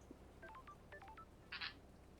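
A phone keypad in the video game Paradise Killer sends a quick run of about eight dialing tones in steady succession, quiet and clean, and a short burst of noise ends the run.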